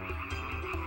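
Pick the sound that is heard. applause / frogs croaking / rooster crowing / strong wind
frogs croaking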